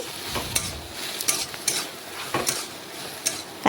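Bottle gourd sautés in its own released water in a pan, with repeated spatula scrapes and taps over a moderate sizzle in an uneven stirring rhythm.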